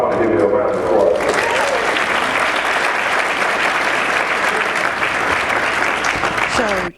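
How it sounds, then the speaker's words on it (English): Audience at a vegetarian festival bursts into sustained clapping that swells after a brief voice and holds steady until cutting off abruptly. "So I want to give you a round of applause"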